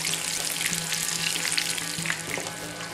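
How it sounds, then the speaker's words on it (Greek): Sliced aubergines fry in a pan with hot oil for a Greek imam dish, giving a dense, constant close sizzle with small crackles and pops, without any voices. "και τις βάζουμε να τις τηγανίσουμε."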